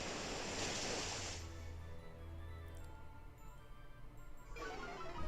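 The Pokémon move Muddy Water in a Pokémon VGC battle plays as a rushing surf-like wash of water, loud at first, fading into a quieter hum, then surging back at the end.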